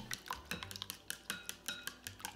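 Eggs whisked with salt in a large bowl make a rapid series of clinking, tapping strokes against the bowl, close and fairly quiet.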